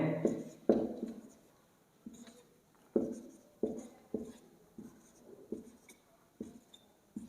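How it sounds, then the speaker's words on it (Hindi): Hand writing out matrices on paper, a close series of short scratchy pen strokes and taps in irregular bursts, each stroke fading quickly before the next. "ये मैंने मल्टीप्लिकेशन वाली मैट्रिक्सेस लिख ली"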